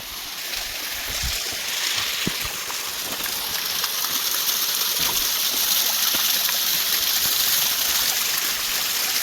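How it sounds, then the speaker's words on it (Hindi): A small waterfall stream running beside a mountain road on a walk toward Landour: steady, close, broadband rushing water with no pauses and a few faint knocks underneath. "ये झरना बढ़िया है,"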